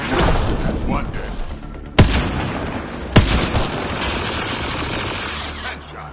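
Gunfire in the sci-fi shooter Mass Effect Andromeda, with two sharp, loud shots standing out from a dense bed of game noise and distant firing, while a voice talks over the action.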